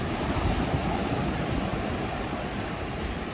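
Ocean waves at Hampton Beach, New Hampshire wash in a steady, broad roar of surf with no distinct breaks, loud and constant, mixed with some wind noise and no voices.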